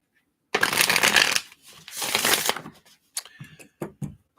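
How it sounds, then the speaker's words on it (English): Tarot cards shuffled by hand in two long riffling bursts, close and crisp, followed by a few lighter taps and flicks as the deck is squared. "Let me just shuffle the cards up here."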